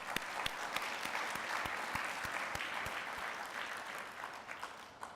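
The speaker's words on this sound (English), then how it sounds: "So I think that all of you can give a round of applause for a very" Audience applause at a Boston awards program for a writing challenge, a sustained wash of many hands clapping steadily at moderate distance, with a few sharper individual claps standing out, no talking.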